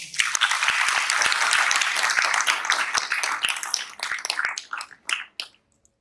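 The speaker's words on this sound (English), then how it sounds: "Please give her one round of applause." A round of applause from an audience at an event, with many hands clapping densely at first, then thinning into a few scattered, distinct claps before stopping.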